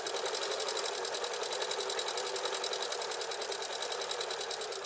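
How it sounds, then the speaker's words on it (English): Sewing machine running a continuous straight stitch along pillow edges, a fast even mechanical whir with rapid rhythmic needle ticking, close and alone. "Edges lined up, and we're just straight stitching."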